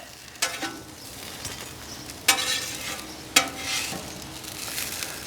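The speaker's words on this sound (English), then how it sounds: "Let's get these hash browns flipped over." Hash browns fry with a steady hiss on a Weber Traveler 22-inch portable griddle, broken by three sharp spatula scrapes and clacks as they are flipped.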